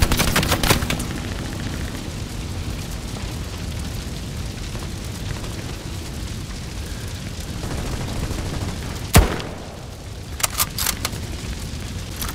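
Distant gunfire in Hell Let Loose, with short bursts of shots near the start, a steady battlefield rumble, then a loud crack and scattered quick shots toward the end.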